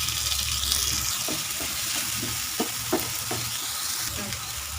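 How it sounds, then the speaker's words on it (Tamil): Crushed spices sautéed in hot oil with mustard seeds and cumin for a tapioca masala make a loud, steady sizzle, with a cluster of spatula scraping strokes midway. "நம்ம இப்போ இடித்து வச்ச அதையும் நம்ம இந்த எண்ணெயிலே போட்டு நல்லா வதக்கிக்கலாம்"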